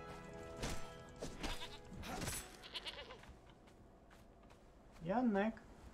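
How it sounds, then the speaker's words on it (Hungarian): A goat bleats once, clear and wavering, in the Conan Exiles video game on the Savage Wilds map, following stretches of talk and game noise. "Kecske."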